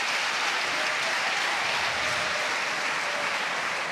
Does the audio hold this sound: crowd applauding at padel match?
yes